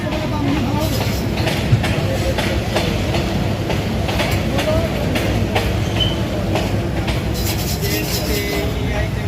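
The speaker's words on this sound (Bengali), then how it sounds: "প্যাসেঞ্জার ট্রেনকে দাঁড় করিয়ে লোকাল লোকাল বলছি মালগাড়িকে পাস করানো হচ্ছে দেখুন" A freight train rolls past a stopped passenger Intercity express train between Malda Town and Howrah, its rumble and wheel clatter heard steadily and loudly close by for the whole stretch, with no speech over it.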